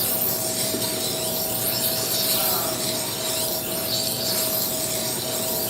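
Steady continuous rasping of a blunt knife edge being sharpened to raise a burr, close and fairly loud, an even rubbing hiss without pauses.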